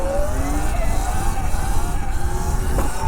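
Sur Ron electric dirt bike pulling power wheelies, a steady rising whine under a broad rushing noise with wind, close and loud throughout.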